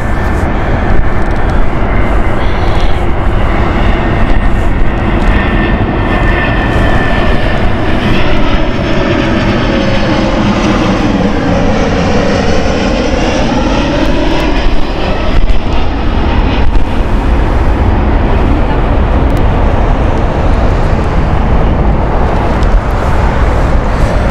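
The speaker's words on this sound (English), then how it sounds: "But the good news is 747 is landing here." A Boeing 747 lands at Heathrow Airport, its loud, continuous engine roar filling the whole stretch, with a sweeping tonal whine that dips and rises midway as the jet passes close by.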